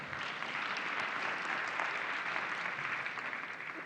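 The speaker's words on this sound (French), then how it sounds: "Avec vos applaudissements, j'espère." An audience at a panel of women leaders applauds steadily for a few seconds, a dense and even wash of clapping heard from within the room.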